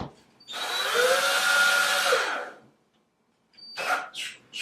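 A power drill drives a screw into a wall while mounting a butterfly on a donor recognition wall: one sustained whirring burst of under two seconds, a pause, then a short choppy second burst, close and loud with no talking.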